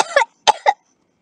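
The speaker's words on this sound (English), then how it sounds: "they're coughing up something awful, and then sniveling all over you" Three short, sharp coughs from a single person, close and fairly loud, performed during a short comedic monologue; the first comes as a rough double burst, followed by two quick separate hacks, then silence.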